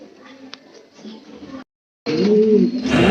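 Belgian tail mark pigeons coo at a pigeon farm, low throaty rolling calls close by, broken by a brief silence and then a louder, fuller burst of cooing, with someone talking over part of it.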